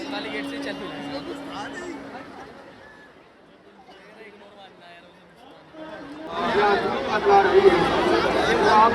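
Crowd chatter fills the busy Jama Masjid bazaar at iftar time, a steady babble of many voices that thins briefly in the middle and then surges back louder and closer.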